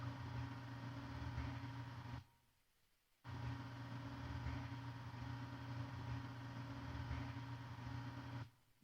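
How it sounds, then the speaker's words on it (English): Simulated vinyl motor noise from the Poly Beebo lofi vinyl module: a steady low hum with a dense band of buzzing tones, running continuously except for a brief gap of about a second, then resuming. "This is motor noise."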